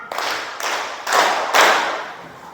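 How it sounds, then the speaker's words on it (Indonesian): A classroom of pupils claps in unison on the teacher's count, four loud, evenly spaced claps close by, each ringing out briefly, with no talking. "Tepuk 4."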